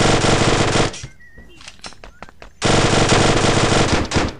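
Video-game machine gun fire comes in two long, loud, dense bursts separated by a short gap of scattered clicks and lighter shots.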